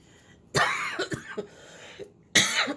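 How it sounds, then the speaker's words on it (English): Two sharp, loud coughs, one early and one near the end, with a few softer throat sounds between them in a quiet room. "When I talk a lot, I cough."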